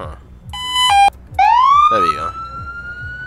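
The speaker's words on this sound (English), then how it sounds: "I still don't hear a siren from him," A police car siren in the video game Emergency 4 wails loud and close, with rising electronic tones and a warbling yelp over a rhythmic pulsing background. A voice speaks briefly over it.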